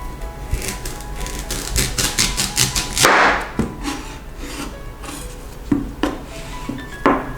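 A kitchen knife slices through peeled taro root on a cutting board, with a firm crunchy cut and board knock midway, among soft scraping and rhythmic tapping of the blade.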